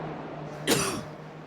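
A single sharp cough bursts out close by against a quiet background hum.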